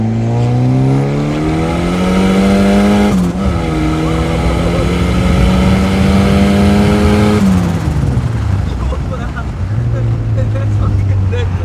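A car with a short-ratio gearbox accelerates hard and loud through the gears, the engine note climbing steadily, dropping at each shift, then climbing again, while people talk inside the cabin.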